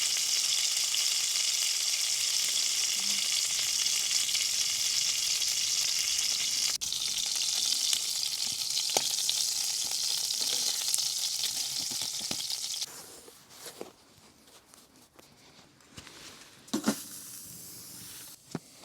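Fish pieces frying in a pan on a stove, a steady loud hiss and sizzle for most of the time that drops abruptly to a quieter crackle with a few clinks near the end.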